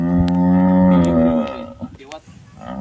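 A cow calving lets out one long, loud, low moo close by, then fainter grunting and shuffling sounds follow.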